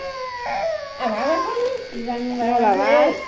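A young dog howls and whines in a string of wavering, high-pitched cries that rise and fall, close and fairly loud, for a few seconds.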